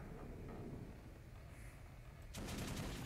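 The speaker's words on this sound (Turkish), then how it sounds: "Silah sesleri geliyor." Distant gunfire in the video game Metro Last Light Redux, a muffled rumbling exchange of shots from below that swells into a louder burst near the end.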